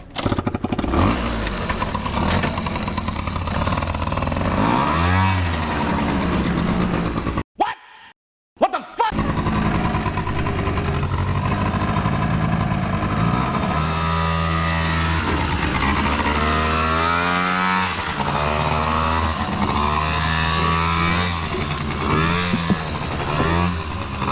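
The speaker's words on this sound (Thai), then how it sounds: "จะลองติดเครื่องดูก่อน เดี๋ยวจะติดเครื่องแล้วขี่เลยแหละ" A very loud motorcycle engine starts and runs close up, holding a rough, steady roar, cutting out briefly, then catching again with rising and falling revs.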